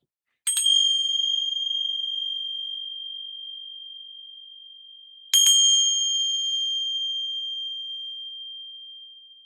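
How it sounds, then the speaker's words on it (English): Two clear bell strikes about five seconds apart, each a bright metallic ding that rings on and slowly fades in otherwise silent surroundings. "I'm going to ring some bells here."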